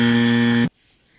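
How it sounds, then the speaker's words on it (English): A loud, steady electronic buzzer sounds alone for just over half a second and then cuts off abruptly into near silence. "That's a well-timed buzzer right there."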